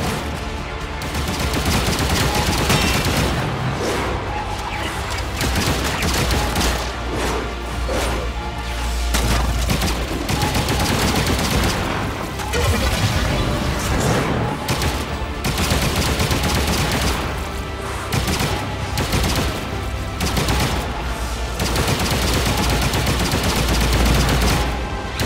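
Sustained, dense gunfire from guns in the video game Warframe, with rapid overlapping shots and impacts crackling loudly and continuously throughout, with no gaps.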